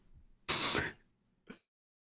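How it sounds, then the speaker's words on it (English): A single harsh throat clearing or cough, close and loud, followed a moment later by a shorter, softer throaty sound, with quiet between them. "I'm coughing over here."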